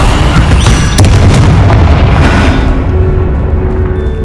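Confringo fire-blast spell erupting in Hogwarts Legacy, a loud booming burst around the middle followed by rumbling debris and a fading tail, set within dense combat noise.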